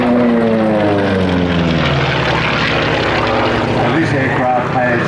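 A P-51 Mustang propeller fighter flies past at an airshow, its piston engine droning loud and close with a shifting pitch, while a commentator talks over it.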